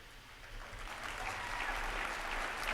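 An audience at a speech claps in a steady wash of applause that swells slightly toward the end, with no voices over it.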